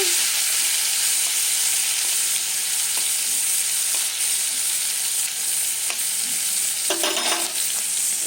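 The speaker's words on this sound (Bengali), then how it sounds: "এখানে পটলটা ভাজছি" Pointed gourd fries in a pan with a constant loud sizzle, occasional stirring clinks and scrapes cutting through.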